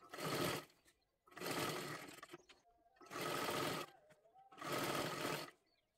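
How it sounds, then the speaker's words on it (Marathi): Sewing machine stitching along the folded hem edge of a dress made from a saree, running in four steady bursts of roughly a second each with short quiet pauses between, close and clear with no talking. "एकदम कडेकडेला आपल्याला इथे शिलाई मारून घ्यायची आहे"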